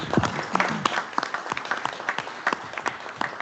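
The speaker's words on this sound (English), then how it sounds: "Round of applause for Josh, please" A board meeting audience gives a round of applause, a moderate, fairly sparse patter of individual claps from a modest group, steady for several seconds.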